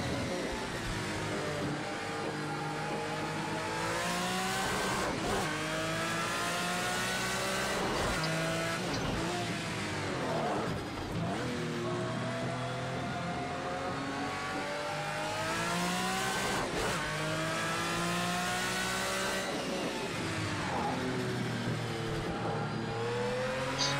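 Race car in the Project Cars 2 game on PlayStation 4 repeatedly revs up through gears and drops off under braking, engine whine rising and falling with occasional tire squeal, loud and continuous.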